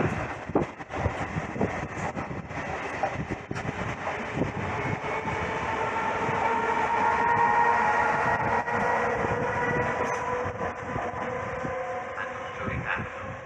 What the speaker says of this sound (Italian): Treno in transito al binario 3.